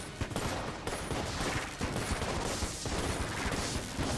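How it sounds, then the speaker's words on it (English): Dense, continuous barrage of gunfire and blasts from the video game Enter the Gungeon, loud and unbroken for the whole stretch with no talk over it. "I have explosions!"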